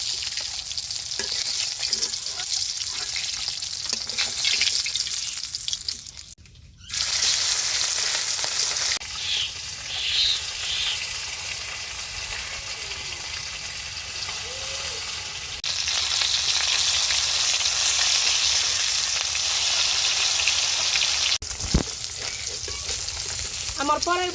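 Katla fish pieces frying in hot oil in a pan give a steady, loud sizzle that runs almost the whole stretch, with one brief dip and some stirring noises over it.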